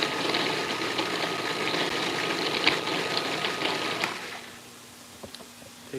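An electric food chopper whirs steadily as it dices a casserole mixture, a dense mechanical buzz that runs for about four seconds and then stops, followed by a few faint clicks.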